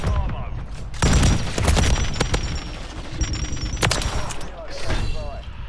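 Pulemyot machine gun fire in Modern Warfare 3, with rapid, dense bursts of shots cracking out over several seconds amid other battlefield gunfire and booms, loud and close.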